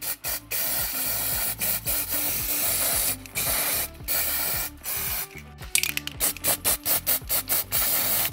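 Hairspray is misted onto a custom Monster High doll in repeated hissing aerosol bursts, steady at first and then in shorter quick spurts near the end, close and clear with no talking.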